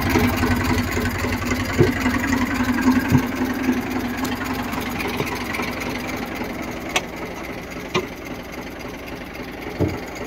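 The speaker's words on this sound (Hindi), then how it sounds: "आवाज बहुत बढ़िया ट्रैक्टर की। ये देखो दौड़ता है ट्रैक्टर।" A farm tractor's engine runs steadily nearby, a continuous mid-pitched mechanical drone with a few faint clicks and knocks mixed in.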